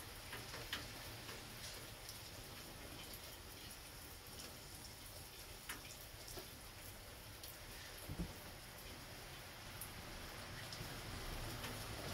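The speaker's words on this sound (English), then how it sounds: "It's raining." Rain falling outside, heard as a faint, steady patter with scattered drip ticks and occasional louder drops, with no voices.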